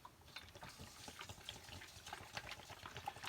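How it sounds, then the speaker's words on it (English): Tap water runs steadily into a pot while making a cold and flu tea, a faint continuous splashing and trickling with no talk. "And then go ahead and fill it up with water."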